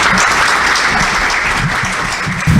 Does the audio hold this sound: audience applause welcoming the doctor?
yes